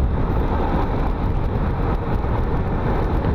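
Cars driving along a potholed rural road in Assú, Rio Grande do Norte, Brazil, a steady loud broadband road and engine rumble filling the whole stretch with no speech.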